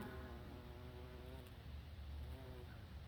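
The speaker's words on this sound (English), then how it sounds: "We've got a healthy population of bumblebees over here." Bumblebees buzz faintly near a clover-like legume on a cattle pasture, a soft wavering hum with rising and falling tones that drifts over quiet outdoor background.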